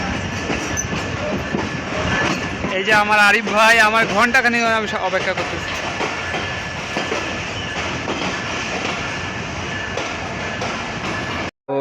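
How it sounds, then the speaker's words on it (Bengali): Intercity Down Barendra Express train rolling into Rajshahi railway station twenty minutes late, wheels clattering and squealing nearby while someone talks over the steady rumble. "সিল্ক সিটি রাজশাহী অভিমুখী আন্তনগর ডাউন বরেন্দ্র এক্সপ্রেস ট্রেনটি 20 মিনিট বিলম্ব নিয়ে রাজশাহী রেলওয়ে স্টেশন প্রবেশ করতেছে"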